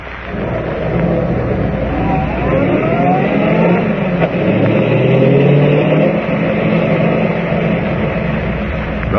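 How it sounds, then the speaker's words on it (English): A car driving to an abandoned gold mine, old radio-drama style: a steady, rumbling engine drone holding at a loud, even level for several seconds, with slight rises in pitch and no voices. "Driving to the abandoned gold mine, Clark Kent and Ed Jenks enter the shaft"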